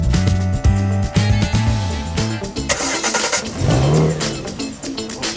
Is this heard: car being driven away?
yes